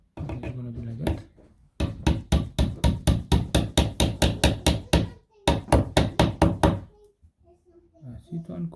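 Pliers tap an IKEA GERSBY bookcase back plate into place with a fast, steady run of sharp knocks, about two dozen evenly spaced strikes in two bursts with a short pause between, close and loud, with brief talk before and after.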